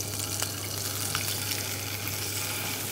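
Steady, gentle sizzling of mackerel frying skin side down in a hot pan, a constant crackling hiss with faint clicks, no voices.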